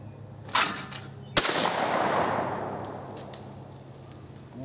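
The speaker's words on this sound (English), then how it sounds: "that old gun cycled and it shot really well" A Remington shotgun, either the Model 1100 or the Sportsman 58, fires a single loud shot at a white clay target. A sharp crack is followed by a long rolling echo that slowly fades, and a fainter click comes just before the shot.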